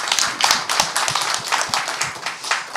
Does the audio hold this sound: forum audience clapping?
yes